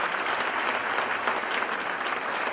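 A church congregation claps together in a sustained, dense round of applause that holds at an even level throughout.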